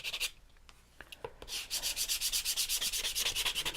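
Rhythmic back-and-forth sanding wearing through paint at the edges of an MDF piece, a steady series of close scratchy strokes after a few lighter rubs at the start, with no talking.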